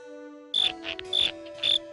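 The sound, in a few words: grasshopper chirping in a cartoon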